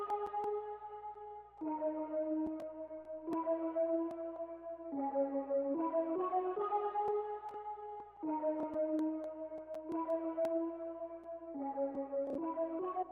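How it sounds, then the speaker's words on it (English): Whirlpool synth lead playing a repeating MIDI melody in FL Studio for a dark trap beat, a steady sequence of bright, slightly airy notes shifting pitch in short phrases, fairly quiet and with no voice. "Next sound we have is a synth lead sound"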